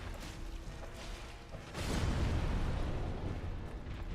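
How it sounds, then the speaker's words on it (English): A Dark Souls Remastered explosion bursts about halfway through, a loud, broad rumbling boom that swells and lingers over an earlier quieter crackle of game noise. "I hate that explosion."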